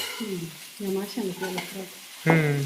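Boneless fish fry in oil with a steady background sizzle while being stirred; prominent voice-like tonal sounds break in over the frying, ending with a louder one.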